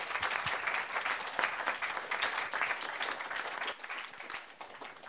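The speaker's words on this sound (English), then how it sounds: "Maybe a quick round of applause for the organisers." Audience at a comics festival event applauds the organisers, a steady wash of clapping from many hands that holds for about five seconds and tapers slightly toward the end.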